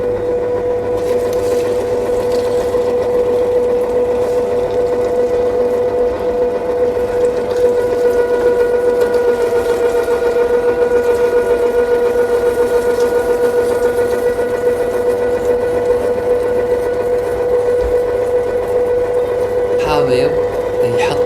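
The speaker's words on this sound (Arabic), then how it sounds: "حأخلط اللحمة مع الخضار اللي سويتها والبهارات، وحطهم كلهم بماكينة اللحمة ومرقهم مع بعض" An electric meat grinder minces meat mixed with vegetables and spices, giving a steady, loud motor hum with a constant whine and faint mechanical rattling that runs the whole time.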